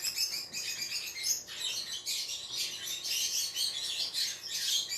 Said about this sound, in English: You hear my birds, guys?